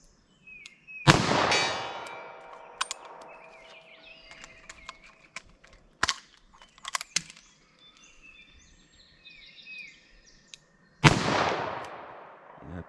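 Three sharp .38 Special gunshots fired at a target 75 yards away outdoors, each a loud crack with a ringing tail, spaced several seconds apart, with faint birdsong and small clinks in between.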